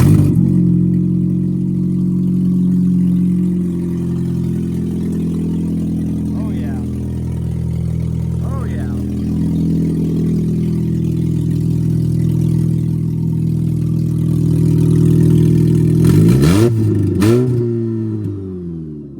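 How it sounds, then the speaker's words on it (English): A scrapped car's engine runs close by, a low droning idle that swells as it is revved like a hot rod, with a quick series of rising revs near the end; a voice is heard faintly over it. "Let's go ahead and hear this bad boy, this hot rod now. She's gonna sound like a hot rod now."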